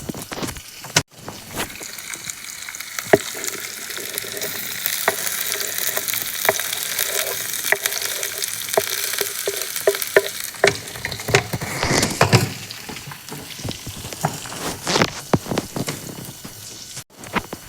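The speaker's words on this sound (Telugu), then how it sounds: "ఇప్పుడు వీటిని అన్నీ బాగా మిక్స్ చేస్తూ వేపేసుకుందాం" Radish pieces with lentils, green chilies and garlic being stir-fried in a pan, a continuous close sizzle broken by repeated scraping strokes and clatters as the mix is tossed, loud throughout.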